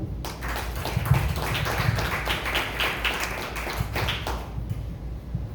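A church congregation claps together, a steady patter of many hands that holds at an even level for several seconds from a moderate distance, with no voices over it.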